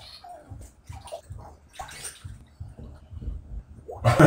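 Water flows and trickles in a small stream, a soft, close burbling with faint splashes that rise into a louder gush at the end.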